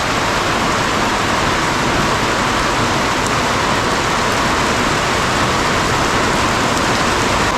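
Steady, dense rain pours down in a forest near a tribal village, a loud, even wash of noise that holds for the whole stretch with no voices.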